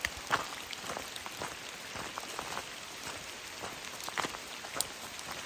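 Rain falling in a forest on a cold day south of Mount St. Helens, a soft, steady patter with scattered louder drops tapping nearby, no voices.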